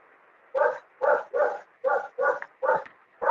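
A dog barks seven times in a quick, even rhythm, each bark sharp and fairly close, with short silences between them.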